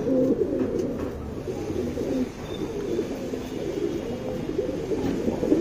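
A medium-sized female racing pigeon, smoky-grey with a light red neck ring, coos in a low, steady murmur that runs throughout, fairly close and with no speech.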